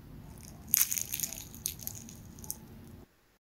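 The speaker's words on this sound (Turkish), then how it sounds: "Çıtırtısını da duyalım." Crisp crunching and crackling bursts from crispy kadayif dessert with walnuts, close and fairly loud, with several bites or presses over a few seconds before going quiet.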